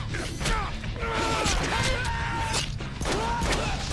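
Rapid machine gun fire rattles through chaotic Deadpool video game combat, dense bursts mixed with impacts and clanks, with a voice partly audible in the fray.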